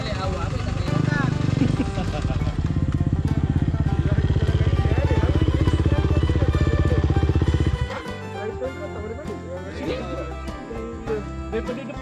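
A motorcycle engine runs steadily during a Kenduro enduro ride, a loud buzzing drone for most of the stretch that drops away near the end into lighter rattles and road noise.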